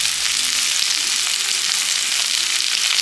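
Onions and carrots for chowmein frying in a pan, a dense continuous hiss of hot oil, close and loud with no pauses.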